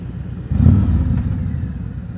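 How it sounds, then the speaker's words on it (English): Road traffic rumbles around a Harley-Davidson Road King Special on a night ride, a low, close engine drone that swells suddenly and then holds steady, with no talking. "Traffic, I'm telling you, traffic, it's crazy."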